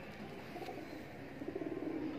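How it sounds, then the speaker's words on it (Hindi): Soft, low cooing of high-flyer pigeons repeats steadily under a constant outdoor hum, fairly faint and continuous. "ए तीसरा कबूतर है लो फ्लायर, ठीक है?"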